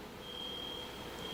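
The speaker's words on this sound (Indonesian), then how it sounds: "Ini bunyi alarm atau apa ya?" A beeping alarm sounds inside a church as a faint, thin, continuous high electronic tone over a quiet room hum, with no talking.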